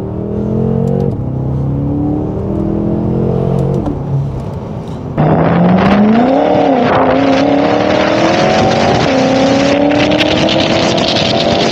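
A BMW M5 F10 Competition accelerates hard in second gear with wheelspin: a loud, close engine climbs in pitch, drops at a shift, then surges again with a rising, sustained roar to the end.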